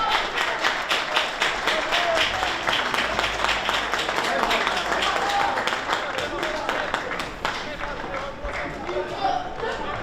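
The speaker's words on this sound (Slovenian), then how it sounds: "En aplavz." Steady applause from the crowd at a Slovenian second-league volleyball match, Primorje versus Fužinar, heard as dense, continuous clapping that lasts about ten seconds at an even loudness.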